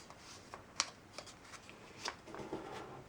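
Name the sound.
folding orange paper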